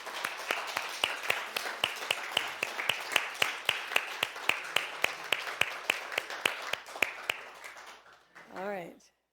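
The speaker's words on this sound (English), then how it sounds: "give a round of applause for God's crowning jewel" A church congregation claps together in a steady, regular rhythm, each sharp clap evenly spaced over several seconds before the clapping fades and a brief voice sound follows.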